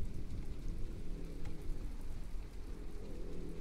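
Steady rain pours through a storm in the From the Depths video game, broadband and constant, with low rumbling thunder rolling underneath and no voices.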